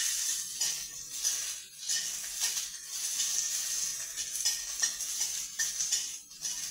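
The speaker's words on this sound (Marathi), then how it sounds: "हा कांदा टाकते तेलामध्ये" Onions frying in oil for a Satara-style chicken thali masala, a steady bright sizzle with occasional stirring scrapes and utensil clinks, close and alone.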